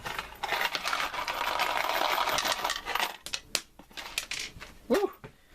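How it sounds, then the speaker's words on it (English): Metal screws scatter and drop in a burst of clinking and rattling against a hard surface, first as a dense clatter and then as sparser individual clicks and bounces. "Throwing screws everywhere."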